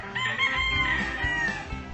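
A fighting cock crows once, a long strained cock-a-doodle-doo held close and loud, with faint farmyard rustling underneath.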